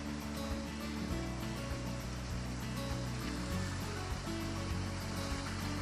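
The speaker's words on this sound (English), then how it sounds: "Listen to the waves in the water." Water waves lapping at the shore of a fishing village in Busan, a steady rolling wash with a low mechanical hum beneath, close and continuous, no voices.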